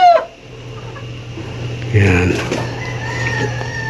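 A hen clucks and squawks nearby in a few short bursts, with a brief spoken word at the start and faint background hum.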